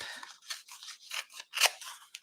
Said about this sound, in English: I'm just going to do a little bit of rip.